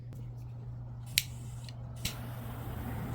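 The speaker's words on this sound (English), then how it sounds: "And you have to press fairly firmly, and then you just snap it down. Look at that. Get a nice chomp out of it, nice V cut on your cigar." A cigar cutter presses down and snaps shut to make a V cut on a cigar, giving two short, crisp clicks about a second apart against a quiet background hum.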